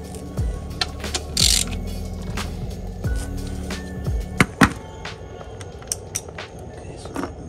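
Bolts being removed from a Honda B-series transmission on an Acura Integra teardown, heard as scattered metallic clicks, ratchet ticks and clanks close by in a quiet shop.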